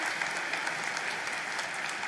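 Applause from the audience at a University High School Class of 2022 commencement ceremony, a dense, even wash of clapping that holds steady from start to finish.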